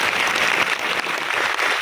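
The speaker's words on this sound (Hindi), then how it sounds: "बस जोरदार तालियां दीजिए सिद्धार्थ के लिए, बस जोरदार तालियां।" Loud, dense applause from a large seated audience at a Vestige company event in Guwahati, a steady unbroken wash of clapping with no one speaking.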